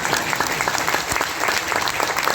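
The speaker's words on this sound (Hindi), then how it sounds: "और अभी तालियां धीमी पड़ गई" An audience at an ashram gathering for a Gita Jayanti celebration claps steadily, dense and continuous applause filling the space, with no voices over it.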